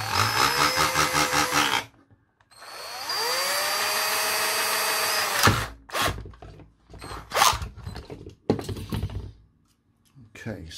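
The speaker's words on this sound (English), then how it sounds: "I need to drill a little hole just for them to poke through" A power drill whines steadily for a few seconds while drilling a small hole in a toy ambulance, then stops, followed by clattering handling noises and a voice speaking briefly.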